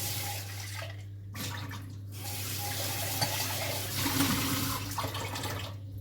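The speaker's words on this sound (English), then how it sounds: "I just rinsed it with water because, you know, there is still some more butter" Tap water runs over homemade butter being rinsed in a sink, a steady close splashing stream with brief pauses and changes in flow as the butter is moved under it, no talk.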